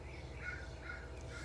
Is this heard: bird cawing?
yes